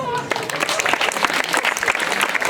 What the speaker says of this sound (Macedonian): Еден аплауз за нив.